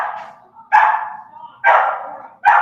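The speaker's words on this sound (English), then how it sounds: "That's a dog next door named Aura." A neighbour's dog named Aura barks three times at steady intervals next door, each bark loud and clear with nothing else around it.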